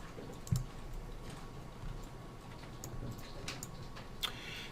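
Quiet, sparse computer mouse clicks come a few at a time at irregular intervals, with one sharper click early on, over a faint room hiss.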